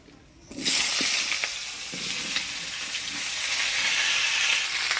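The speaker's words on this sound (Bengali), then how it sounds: "ফোড়নে দিয়ে দিব গোটা জিরা শুকনো লঙ্কা তেজপাতা" Whole cumin, dried chilli and bay leaf hit hot oil for tempering, bursting into a loud sustained sizzle with a few crackles and stirring scrapes, close by.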